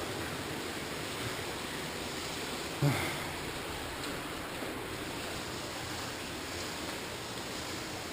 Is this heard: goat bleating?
no